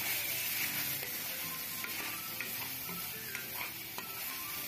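Pork adobo sizzles in its own rendered fat in a pan, with a continuous close crackle and occasional light scraping as the meat is stirred, and no talking.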